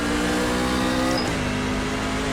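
NASCAR truck engines in the iRacing video game, a Class C fixed-setup race, pull away from the start; a loud, steady droning engine whine holds with a brief pitch dip midway before settling into a constant tone.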